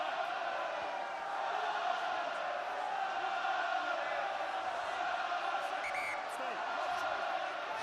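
A rugby stadium crowd at a 2007 Heineken Cup quarter-final between Scarlets and Munster roars steadily after a Scarlets score, a broad, sustained distant cheer with faint whistles and shouts.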